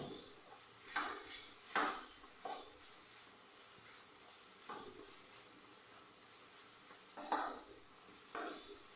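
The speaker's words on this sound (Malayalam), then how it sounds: "നെയ്യിൽ ഒന്ന് വാറ്റിയെടുത്താൽ മാത്രം മതി" Soft steady sizzle of flattened rice being sautéed in ghee in a pan, with periodic scraping strokes of a spatula against the metal, quiet and continuous with no voices.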